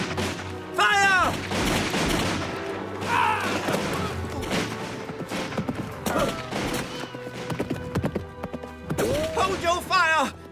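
Musket volleys in a battle scene from a historical film set in colonial frontier warfare, heavy gunfire cracks and rolling reports mixed with shouted commands, loud and continuous through the scene.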